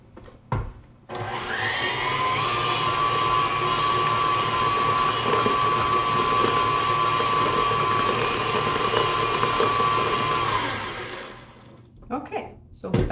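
Electric hand mixer whirring steadily through cake batter for a rhubarb meringue cake, a sustained close motor drone running about eight seconds before cutting off, with brief handling noises at the start and end.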